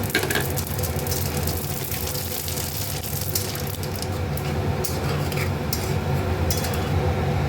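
Radhuni spice seeds sizzling in hot oil with bay leaf for a bitter gourd dal, a steady close frying hiss with a few light metallic clinks of a spoon against the pan, no talk.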